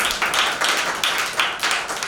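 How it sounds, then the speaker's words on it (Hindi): Audience clapping for a child who has just recited a verse at a Father's Day programme, loud, dense applause throughout with a faintly pulsing rhythm. "शैजल के लिए भरपूर तालियां"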